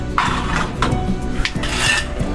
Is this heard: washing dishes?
yes